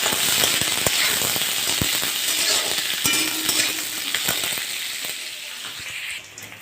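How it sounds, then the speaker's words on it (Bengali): Diced onion sizzles loudly in hot oil in a pan, a dense, steady crackle with scattered sharp pops that eases slightly toward the end, with no talk. "এবার এই পেঁয়াজটাকে আমি ভালোভাবে ভেজে নেব।"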